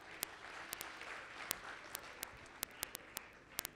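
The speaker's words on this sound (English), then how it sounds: "please give yourself a round of applause again" An audience applauds at the end of a community colleges infrastructure programme launch, a soft, steady patter of clapping with a few sharp, distinct claps standing out near the microphone.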